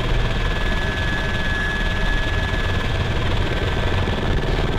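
Loud, constant thudding of helicopter rotors with a steady engine whine in the video game Arma 3, filling the whole stretch without pause.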